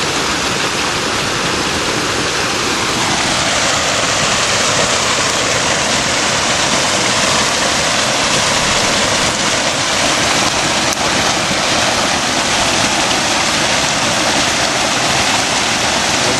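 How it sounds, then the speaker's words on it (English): Water rushing steadily through a blue bowl micro sluice on a hydraulic setup beside a stream, producing a loud, continuous, close roar with no breaks and no talking. "I'm going to go over and turn the blue bowl back on for a little bit."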